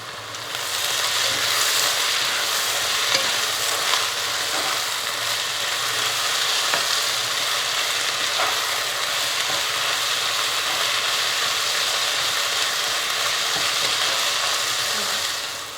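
Chopped onions frying steadily in hot oil with mint and coriander added, a dense continuous sizzle with faint occasional scraping, no voices.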